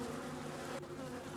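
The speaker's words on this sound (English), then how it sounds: "suddenly you are surrounded by this buzzing sound" A swarm of bees or similar insects drones as a dense, continuous buzz, loud and close, holding steady throughout with a brief dip midway and no speech.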